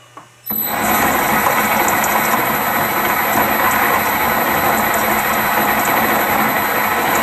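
A Holbrook lathe, just repaired, starts up in back gear while parting off and settles into a loud, continuous mechanical whir with a gear whine, running steadily and close.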